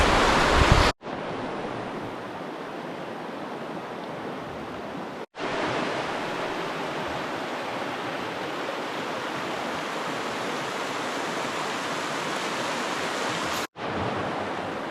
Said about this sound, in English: I'll let you have a wee look at the river